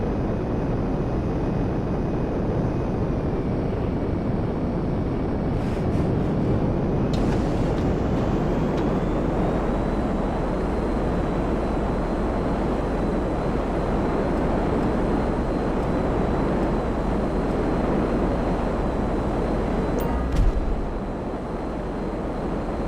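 Steady broadband roar of a plane's engine flying in GTA 5 Online, constant and fairly loud throughout, alone with no talk and only a couple of faint clicks.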